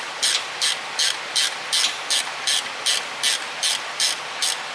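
A ratchet wrench loosens 1/2 inch bolts on a 2015 Jeep JK during a clutch job, giving about a dozen evenly spaced, crisp ratcheting bursts up close, with no talking.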